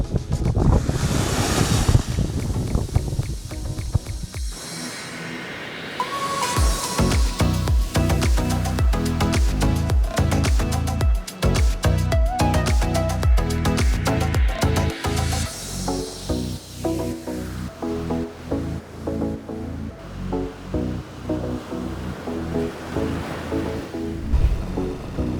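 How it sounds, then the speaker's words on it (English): Surf rolls and washes onto Bamboo Beach near the southern end of Koh Lanta, Thailand, with steady waves under heavy, buffeting wind noise on the microphone throughout. "This is Bamboo Beach and we're near the bottom of Koh Lanta."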